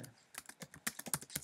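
Fairly quiet typing on a computer keyboard, a rapid uneven run of light key clicks close by with no voices.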